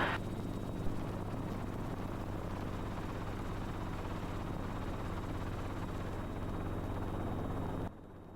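Steady, loud mechanical drone of a helicopter's engine and rotor throughout as it approaches landing at a field, unbroken and close, dropping off abruptly at the very end.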